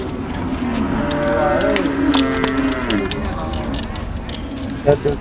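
Cattle moo loudly and repeatedly at a Thai cattle market, the long bellowing calls standing out over a busy crowd murmur and nearby voices.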